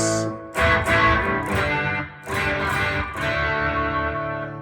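Electric guitar played through an overdrive distortion pedal, thick sustained distorted chords struck several times with a creamy, saturated tone.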